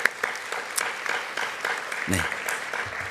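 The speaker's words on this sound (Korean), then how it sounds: "감사와 영광의 박수를 한 번 더 올려드리겠습니다" Congregation at a church youth Sunday worship service claps together in a sustained round of applause, moderately loud, with a brief spoken interjection early on.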